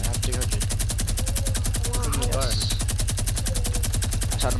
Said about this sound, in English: Start shooting your scar.